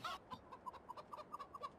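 Chicken clucking in the farming video game Farming Simulator 2015, a series of short rhythmic clucks repeating steadily at moderate, close-up volume, with no voices over them.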